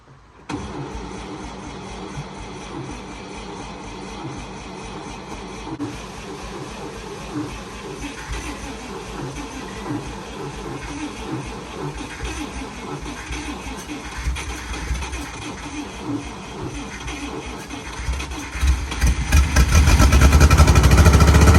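A 1955 Dodge M152 truck that had been sitting, its engine cranking with a long rhythmic churning for many seconds before catching and settling into a loud, deep, steady idle; voices can be heard partway through.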